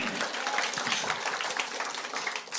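A church congregation claps in a dense, steady patter of applause throughout, moderately distant, with faint voices mixed in.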